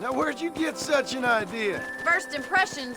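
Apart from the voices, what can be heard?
No everyday noise stands out behind the speech.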